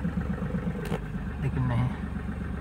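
A Mahindra Bolero Neo's engine runs in first gear, a steady low mechanical hum with a slight rise in pitch, heard quietly beneath someone talking.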